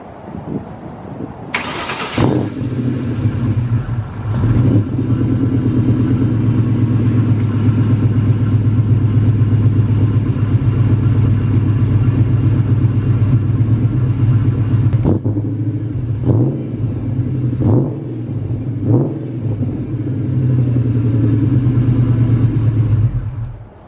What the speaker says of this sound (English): I'm gonna give you a cold start